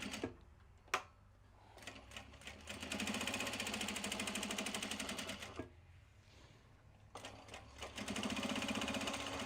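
Sewing machine stitching leather for tote handles and mini traveler sling bags in production runs, with steady rapid bursts of needle clatter separated by brief pauses, close and loud throughout.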